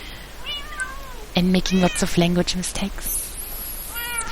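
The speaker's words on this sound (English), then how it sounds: "I apologize for the cats" Cats meowing indoors, several short tonal cries close by, mixed with a person talking and overlapping the voice.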